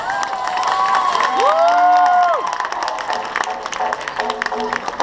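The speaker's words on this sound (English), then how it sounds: "Ladies and gentlemen, give him a big round of applause." A wedding reception crowd breaks into loud cheering, whistles and shouts with clapping running throughout, close and lively, and someone speaking amid the noise.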